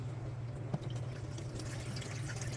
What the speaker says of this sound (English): So we have here our salt water, which is where we're soaking, Rinsing. all of our fish.